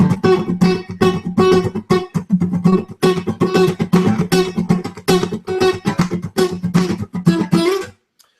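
Single-note guitar groove strummed in steady 16th notes, up and down, with rhythmic muted pulses and brief pauses, played alone and clearly for about eight seconds.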